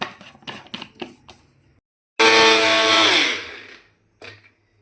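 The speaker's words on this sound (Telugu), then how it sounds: "మనం మిక్సీ పట్టుకున్నాం కదండి," A few knocks and clicks, then a mixer grinder powdering sugar roars loudly for about a second and a half, stops, and gives one short final burst.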